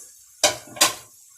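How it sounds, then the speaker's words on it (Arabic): Two sharp scrapes of a spoon against a cooking pot while meat is being stirred, spaced about a third of a second apart, close and fairly loud, with no voices. "اللحمه اهي نقلبها بقى كويس"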